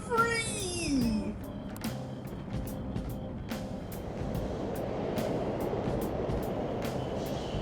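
A subway train runs through a station in the video game Persona 5 Royal, a steady low rumble that settles in after a few seconds, with voices and brief tonal game sounds at the start.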